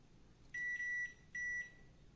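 A digital multimeter set to its diode/continuity range gives two steady high-pitched beeps, each about half a second long, as the probes test a shorted lamp on a circuit board; the beeps are clear and close, with quiet room hiss between them.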